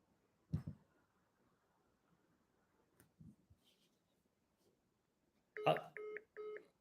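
Phone dialing tones on a call, a few faint clicks and taps followed by a short burst of distinct beeping tones near the end, quiet room otherwise.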